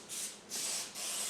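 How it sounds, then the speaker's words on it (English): Nonstick cooking spray hissing onto parchment paper for a low-carb cheesecake base, three close, breathy bursts in quick succession, each a steady airy spray with short pauses between. "I'm going to take my nonstick spray and go ahead and spray the bottom of this."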